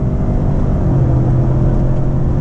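A Lincoln Navigator Black Label's engine pulls hard after a kickdown to second gear, giving a steady, loud, low rumble with a faint whir that holds for the whole stretch, no voices.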